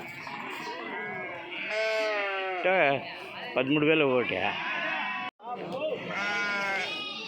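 Sheep and lambs bleat repeatedly at a busy livestock market, their wavering, nasal cries rising and falling close by and mixing with steady bargaining chatter between men.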